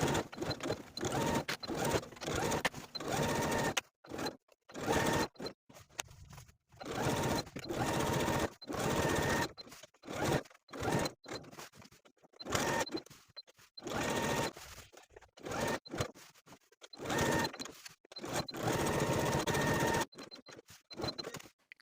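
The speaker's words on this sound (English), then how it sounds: "to continue sewing with a 1/2 inch seam allowance, pivoting around those corners of the collar" A sewing machine stitches a half-inch seam around a vest collar, its needle running in fast steady bursts that pause briefly at corners, close and loud with no voices.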